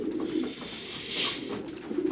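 Pigeons cooing softly in a rural loft setting, a few low, rounded calls rising and falling over a faint background hiss, moderately near and fairly quiet, with no talk.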